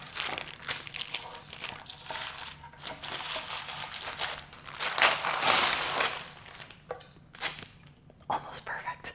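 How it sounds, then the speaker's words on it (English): Parchment paper crinkles and crackles as it is unwrapped from a frozen corn miso semifreddo, with close, irregular rustling bursts that swell in the middle and break into short crackles toward the end. "Unwrap that."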